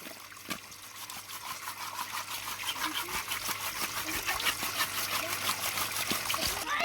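Fish being washed by hand in water with salt makes rhythmic splashing and sloshing that grows slightly louder, heard up close.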